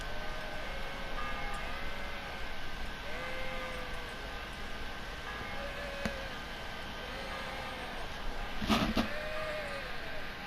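Sheep bleating in the video game Kingdom Come: Deliverance: a series of wavering bleats at a steady, repeated pace over a constant background hum, with one louder, sharper bleat near the end.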